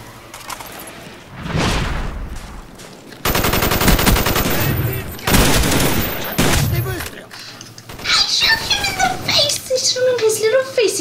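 Loud bursts of automatic gunfire from a Call of Duty Black Ops multiplayer match, several dense volleys in a row followed by a scattered clatter of effects, with players talking faintly over the action.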